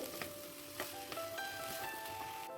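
Green chillies go into a pan of drying papaya and poppy-seed paste, giving a soft, steady sizzle with a few light stirring scrapes, close and quiet.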